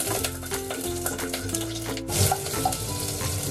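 Onion sizzling in a hot pan for Japanese curry, a steady close frying hiss with soft stirring clatter and a few light clinks, no talking over it.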